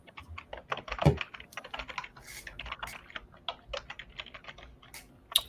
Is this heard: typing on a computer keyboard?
yes